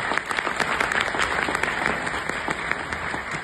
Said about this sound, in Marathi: सो त्या सगळ्यांसाठी आपण टाळ्या वाजवूया एकदा.